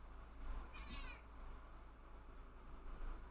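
A pet cat meows once, close to the microphone, a short rising cry over faint steady background hum.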